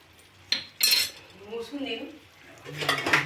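Bitter gourd curry stirred in a metal pot in a village kitchen, with a spoon scraping and clinking against the pot in a few short bursts.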